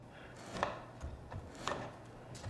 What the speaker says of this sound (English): sand some of those grooves on before you even get rolling